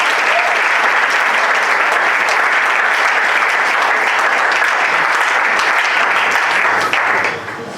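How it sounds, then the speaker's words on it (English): An audience at the final of the Togo national debate championships breaks into loud, dense applause. The clapping holds steady for about seven seconds, then drops off quickly. "Please let's applaud them for their"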